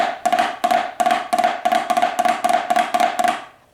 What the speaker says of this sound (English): So if we do alternating ruffs, it's going to sound like this.